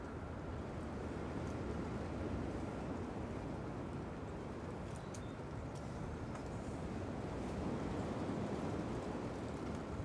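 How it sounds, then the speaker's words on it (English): Gusty wind buffeting a microphone at Manchester Airport, a loud continuous low rumbling roar that swells and eases without pause. "The wind's actually getting up at the moment as well."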